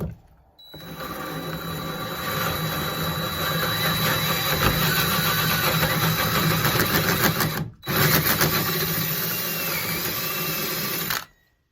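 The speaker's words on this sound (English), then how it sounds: "All right, let's drill this." A power drill bores a hole through a door for a deadbolt, running continuously at high speed, loud and close, grinding steadily with one brief stop before running on and then cutting off.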